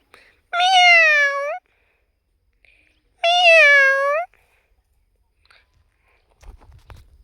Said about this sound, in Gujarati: એ મીંદડી મ્યાઉ મ્યાઉ